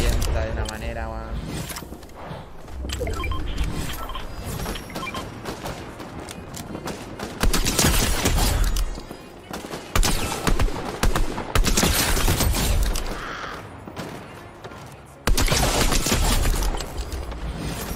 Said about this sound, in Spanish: esta escopeta revienta de una manera, weón